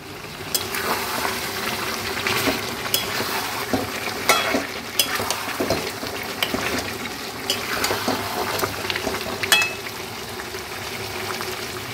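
Bottle gourd and shrimp cooking in a pan over high heat on a large gas burner, a steady, loud sizzle of young, watery gourd frying, broken by frequent clicks and scrapes of stirring, with no talk.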